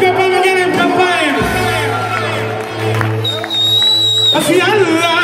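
A crowd cheers and whoops loudly throughout, layered under amplified music and a singing voice, with the cheering rising again near the end.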